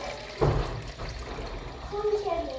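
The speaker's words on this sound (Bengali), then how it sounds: "গাছে একটু পানি দিয়ে আসি" Water poured onto potted plants on a home balcony: a sudden splash is followed by a softer trickle and dribble, close by and brief.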